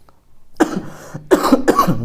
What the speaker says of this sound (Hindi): आज बेटा खांसी थोड़ा ज़्यादा आ रही है